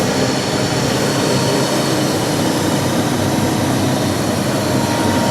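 An Anor Major 4200 x 450 mm machine running its cycle, a loud, steady broadband roar with no breaks or change in level, heard close and alone.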